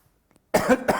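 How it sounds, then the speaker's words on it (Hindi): A single short cough, close and fairly loud, in two quick bursts after a moment of near silence. "पढ़ाते पढ़ाते पता नहीं कब खांसी आ जाए"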